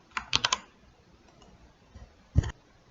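A customs code being typed on a computer keyboard: a quick burst of three or four key clicks, then a short pause before a single louder keystroke, close and clear with no talking.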